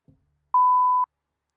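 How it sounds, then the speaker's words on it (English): A single steady censor beep, a pure mid-pitched tone lasting about half a second, sounds loud and clean after a faint brief thump, with no talk over it. "I was trying to get those beeps."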